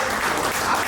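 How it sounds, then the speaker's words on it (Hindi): Audience applause at a World Hindu Federation gathering in India, a dense, steady clatter of many hands clapping together, loud and sustained throughout with no voices over it. "एक बार के लिए ताली जरूर बजे."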